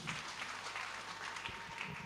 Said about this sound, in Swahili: Tuwape makofi.